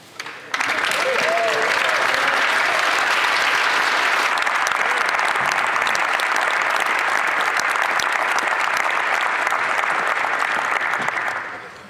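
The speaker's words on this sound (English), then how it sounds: "Appreciate some of the applause from the other side" Sustained applause from a large crowd fills a parliament chamber, loud and even for about ten seconds before fading out.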